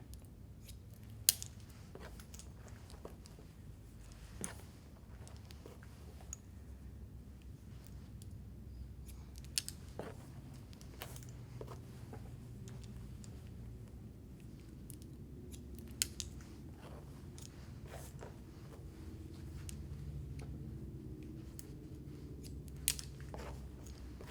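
Hair shears snipping during a uniform layer haircut, giving sparse, crisp individual cuts spaced several seconds apart over a low, steady room hum, close and fairly quiet, with no talk.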